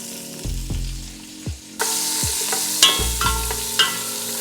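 Garlic, shallot, ginger and green onions sizzle in a hot pot as they hit the oil, a steady frying hiss with a few clanks and stirring knocks, close and loud, no talking.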